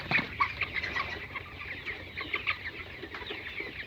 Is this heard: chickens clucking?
yes